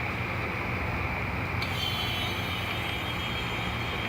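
Propane tank for a bee smoker being refilled from a larger cylinder, a steady continuous hiss of gas flow close by, with a slight change in tone partway through.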